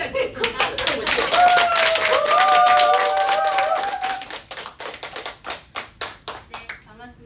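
An audience applauds to welcome a lecturer, a burst of clapping that swells, holds, then thins into scattered individual claps, with a voice speaking over the start.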